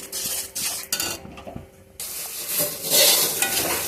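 Whole cumin seeds crackling in hot oil, with bursts of sharp sizzling and quick metallic stirring clatter close by, a brief quieter gap, then the sizzle rising loud again, no voices.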